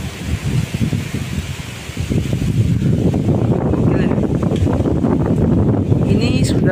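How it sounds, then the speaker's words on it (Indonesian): Strong gusting wind sweeps across a mountain trail, a loud roaring rush that builds and stays dense, with rustling around the microphone. "Anginnya di sini cukup gede teman-teman"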